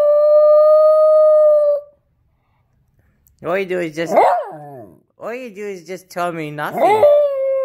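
A Maltese Silky Terrier gives a long, steady howl, then several wavering, yowling vocal bursts, close and loud, with a voice talking to it between them.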